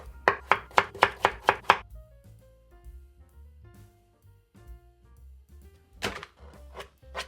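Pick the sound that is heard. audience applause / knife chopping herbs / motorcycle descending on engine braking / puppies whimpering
knife chopping herbs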